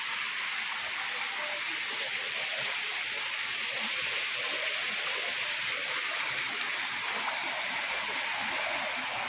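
Clear water runs over loose stones at the Kochareekkal Caves, giving a steady, even broadband rush with no breaks and no voices.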